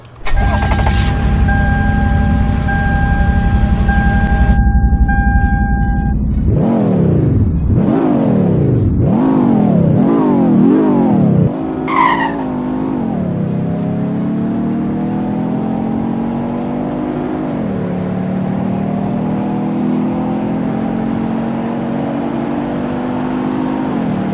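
A 1999 Toyota 4Runner SR5 in a video game starts up, then its engine revs hard in several rising and falling bursts before settling into a steady hum that climbs with gear-like steps, loud and close, with no voices.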